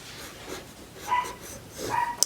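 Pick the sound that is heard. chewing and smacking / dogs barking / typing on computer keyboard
dogs barking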